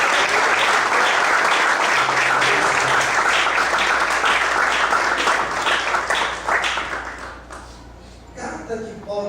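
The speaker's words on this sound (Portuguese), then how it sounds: "Você pode aplaudir." A church congregation bursts into loud, sustained applause that fills the room, then thins out toward the end as a few voices come through.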